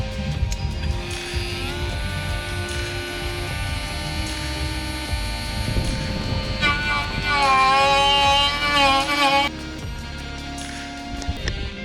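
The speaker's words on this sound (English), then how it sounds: "I ended up just using a Dremel with a proper cutting disc" A Dremel rotary tool with a proper cutting disc cuts a headlight intake opening on a Mk1 MX5, giving a steady buzzing whine over a low hum that grows louder and shriller midway before settling.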